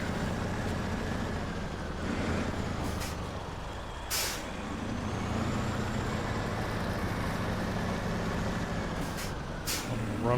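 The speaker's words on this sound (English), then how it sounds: "Alright, so there's my truck." A heavy truck in the SnowRunner video game, hardcore mode, exploring a mountain river: a steady loud engine drone runs throughout, with a few sharp hissing bursts like air brakes and no talk.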